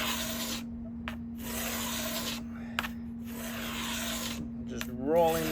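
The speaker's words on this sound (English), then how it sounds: "And then I'm going to sand this." Maple braces on a flamed maple 7-string guitar back are sanded by hand in long, steady, close rubbing strokes with a few brief pauses, over a constant low hum.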